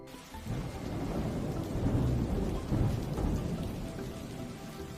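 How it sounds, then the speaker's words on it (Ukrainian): Heavy summer downpour with thunder: a dense, steady wash of rain with low rumbles swelling through the middle, loud and continuous without any voices. "Злива може бути з громом і блискавкою."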